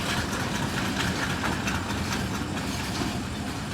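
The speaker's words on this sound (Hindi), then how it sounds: "अभी ये लोकोमोटिव इन 2 कोचेस को पीछे की तरफ लेकर जाएगा" A locomotive hauls two coaches of the Mianwali Express on the line between Lalamusa and Mari Indus in Pakistan, a loud, continuous close-up rumble of engine and rolling wheels with faint clacking and no talking.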